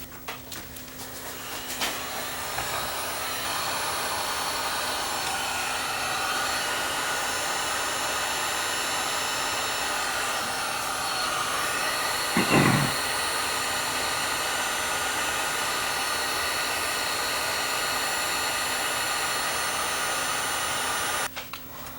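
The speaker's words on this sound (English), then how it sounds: "I'm just gonna go get my heat gun. I'm gonna melt that stupid wax that's around here." A heat gun blowing hot air onto wax coating an AC-powered FM radio circuit board, a loud steady whooshing roar running nearly unbroken for about twenty seconds, close up, with a brief low thump midway.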